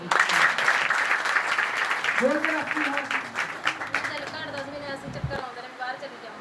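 A church congregation at a prophet's birthday celebration claps in a dense, sustained patter, with voices calling out over the applause.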